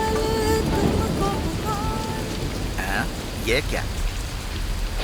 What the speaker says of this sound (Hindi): ये बारिश भी ना रोज रोज बढ़ते ही जा रही है।